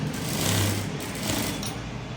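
A sewing machine runs steadily while stitching the lining of a blouse, giving a continuous close mechanical whir with no talk over it.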